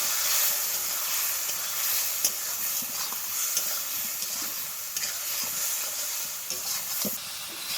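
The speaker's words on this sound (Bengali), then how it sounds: "এবার খুব ভালো করে মশলাটাকে কষিয়ে নেব।" Spice paste with yogurt and salt is sautéed and stirred steadily in a pan for a green banana kofta curry, giving a continuous close sizzle with scraping spoon strokes throughout.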